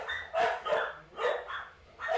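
Dogs barking repeatedly in a house as a school bus arrives, sharp close barks in bursts about every half second to second, loud and alone without talk.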